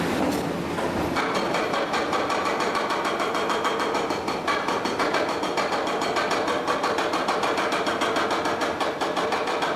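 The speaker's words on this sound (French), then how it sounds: "c'est au tour de puissants marteaux-piqueurs de venir grignoter la roche centimètre par centimètre" Powerful jackhammers chip at the rock in a tunnel, giving a loud, fast, unbroken hammering chatter that goes on for the whole stretch, with heavy machinery ringing in the space behind it.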